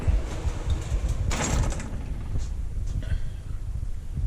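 A drawer on a US General tool chest slides open or shut, giving a brief rolling, scraping swipe near the middle over a steady room hum, with faint background sounds afterward.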